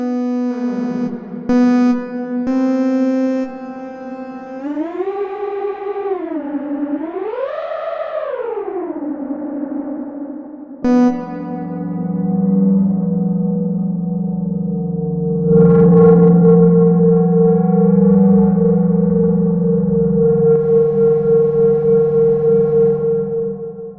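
An Arturia modern reverb plugin processes a synth demo: wailing, siren-like gliding tones with rising and falling pitch, then held droning notes, all washed in long reverberant tails.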